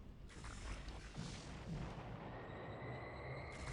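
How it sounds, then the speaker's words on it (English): A conventional missile strike in the strategy game Alpha Centauri: a dense, steady booming roar with rumbling texture that holds across the whole stretch, loud and continuous, with no talking over it. "Conventional missile killing our worm."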